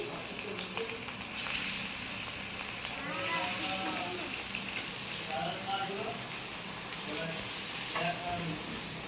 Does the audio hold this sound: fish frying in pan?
yes